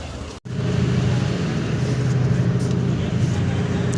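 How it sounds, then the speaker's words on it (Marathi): A ferry engine near Dapoli on the Konkan coast drops to a short gap, then settles into a loud, steady low rumble that runs on without breaks, with no speech over it. "मित्रांनो आता बोट चालू होणार आहे"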